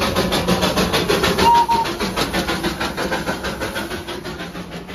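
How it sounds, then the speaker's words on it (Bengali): The Darjeeling toy train runs at Batasia Loop with a rhythmic chuffing that repeats steadily at close range, and a brief whistle-like tone sounds early on. "অন্যরা টয় ট্রেন চলছে, সেটা ভিডিও আমি করছি"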